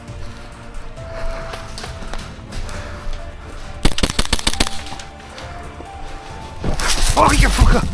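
An airsoft gun bump-fired at a close-quarters battle game: bursts of rapid sharp snaps, loudest near the middle and end, mixed with field noise and voices talking.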